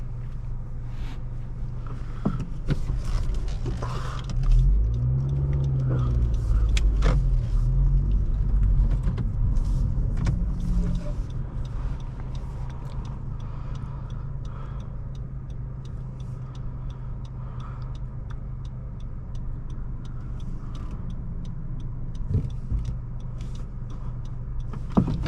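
A 2019 Honda Civic Sport 1.5T with a six-speed manual pulls away, its engine rising into a loud, steady interior drone and rumble that settles into a constant cruising hum, with no talk.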